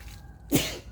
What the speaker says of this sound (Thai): อ้าว จามแล้วพี่น้อง